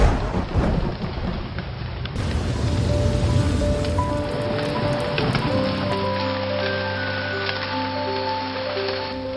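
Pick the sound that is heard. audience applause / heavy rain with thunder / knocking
heavy rain with thunder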